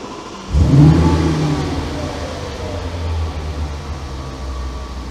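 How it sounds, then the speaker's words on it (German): An Audi S6 V10 cranks and fires up with a sharp low surge, then settles into a steady, smooth idle rumble close by, with an earlier idle misfire fault now fixed; no one speaks over it. "dann starte ich das Auto und dann werdet ihr feststellen, wie seidenweich er wieder läuft"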